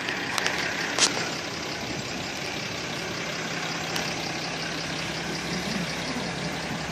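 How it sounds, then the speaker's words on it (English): A brand-new 2012 Dodge diesel truck idling, a steady engine rumble held close and even throughout, with a couple of faint clicks near the start and no talking. "on the 2012 Dodge, brand new diesel."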